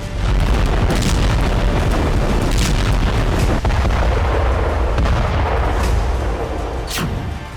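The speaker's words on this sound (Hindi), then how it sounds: "अगर ये ड्रोन अपने टारगेट को हिट करता तो कुछ ऐसा धमाका हो सकता था" Loud, continuous booming blasts of a drone's C4 plastic explosive detonating, like a heavy explosion or artillery barrage, with rumbling low end and sharp cracks throughout.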